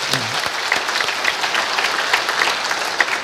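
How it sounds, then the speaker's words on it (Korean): A church congregation claps steadily and enthusiastically for several seconds, a dense, even wash of applause with no voices standing out. "하나님께 박수로 영광을 드립니다"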